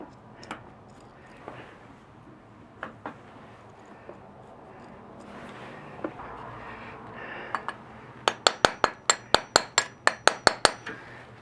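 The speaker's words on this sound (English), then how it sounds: "Tap it in with a hammer." A hammer taps a Honda 4 Trax ATV starter motor part into place, first with a few scattered knocks, then a quick run of about a dozen sharp, ringing metallic strikes close by.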